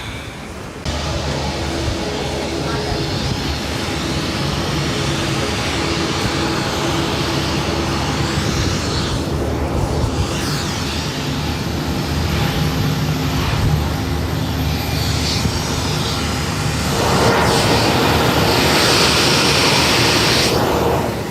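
Jet engines of a Ryanair-group Boeing 737-800 operated by Malta Air drone and roar steadily during boarding, a broad, loud rushing noise with no pauses that swells somewhat toward the end.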